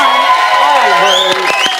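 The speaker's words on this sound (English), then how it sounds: "Give her a round of applause." A television studio audience on Big Brother UK claps and cheers loudly with whoops, while a singing voice carries over the noise, steady throughout.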